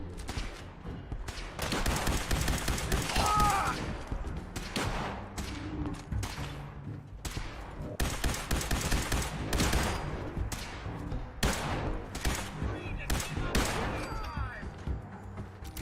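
Rapid bursts of laser rifle fire in a Fallout game, repeated crackling shots in irregular clusters over a dense, busy combat backdrop, loud and continuous throughout.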